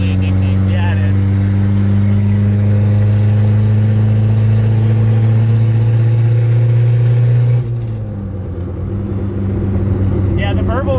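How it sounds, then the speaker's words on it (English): Lowered Toyota Corolla engine drones loudly under load, then the pitch drops as the driver downshifts and lifts off, leaving a rumbling idle with light burbles; the sound is close inside the car. "downshifting and just letting off the gas and listening to the burbles is really addicting"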